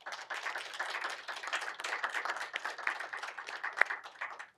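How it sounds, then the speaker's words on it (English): An audience at a community panel discussion on LGBTQIA activism in Grand Rapids applauds the panelists, a sustained wash of many hands clapping from across the room, fairly distant and even, with no voices. "If we could also give our panelists a big round of applause."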